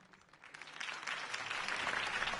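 A crowd in the Batman Telltale game applauding after Harvey Dent's campaign speech, steady clapping that swells from moderate to fuller and holds throughout without pause.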